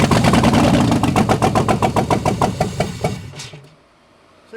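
A 4WD Daytona's engine running on open headers: a loud, raw, rapidly pulsing exhaust blat that sputters and fades over a few seconds before dropping to near silence.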